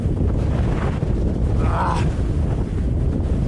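Strong wind buffets the microphone during a bike ride through cool pine country near Malico, Pangasinan, a steady loud rumbling roar with no speech.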